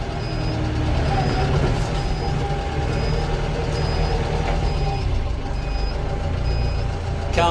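A Farmlead 504 tractor engine drones at a steady moderate level during a test drive, joined by regularly repeating faint high beeps, with no talk.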